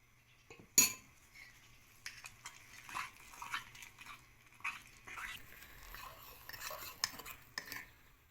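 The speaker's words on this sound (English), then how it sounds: "Now again mix it well." A spoon clinks and scrapes against the inside of a mug, stirring brownie batter in short irregular bursts at close range, fairly quiet.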